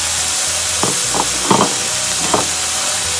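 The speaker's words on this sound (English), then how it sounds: "we're gonna put that meat back on the stove because we're gonna add our onions" Chopped onions sizzle in a pan with chili meat on a stovetop, a steady frying hiss broken by several distinct scraping stir strokes, close and fairly loud with no talking.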